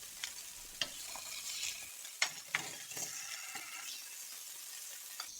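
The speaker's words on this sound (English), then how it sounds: "I'll give the pan a quick wipe just to remove the excess oil and any burn bits" A cloth or paper towel is wiped around a hot pan used for steak, clearing off excess oil and burnt bits, giving a faint sizzle with soft scraping and a few light knocks, close and quiet.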